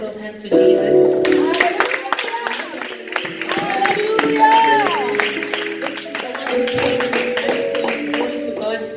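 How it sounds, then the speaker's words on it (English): A church congregation claps along during worship, with rhythmic handclaps mixed into loud singing, music and shouted praise that continue through the whole stretch. "Can you just clap those hands for Jesus?"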